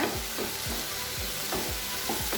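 Chopped medium tomatoes sauté in a pan for a potato masala, with a continuous soft sizzle and regular rhythmic spoon scrapes every half second or so as they are stirred, and no voices.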